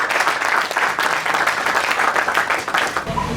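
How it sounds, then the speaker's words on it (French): An audience at a free-meal charity event in Douala breaks into steady, dense applause, many hands clapping together loudly and evenly, with a few voices faintly underneath. "Est-ce qu'on peut acclamer pour cette initiative?"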